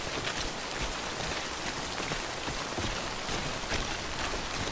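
Acid rain pours steadily in the video game Death Stranding, a dense, even hiss of falling drops with no pauses and no voices.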